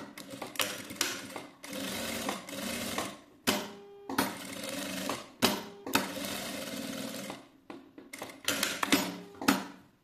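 A sewing machine stitches fabric for a children's piece in a series of rapid, close mechanical bursts, each run of stitching stopping and restarting with short pauses and no talking over it.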